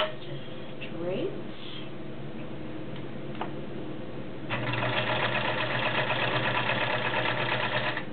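A White Model 734 convertible flat bed/free arm sewing machine sews a straight stitch. A soft hum and ticking gives way midway to a steady, louder rapid whirring of the running needle.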